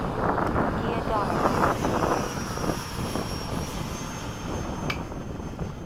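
F/A-18 jet in a flight video game on a sunset flight with the landing gear lowering, a continuous loud engine roar with a windy rush and a brief higher mechanical whine near the end.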